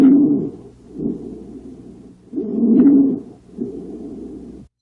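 A human voice imitates tracheal stridor, the harsh, wheezy inhalation of croup breathing, repeated in four strained breaths up close, with quieter gaps between them.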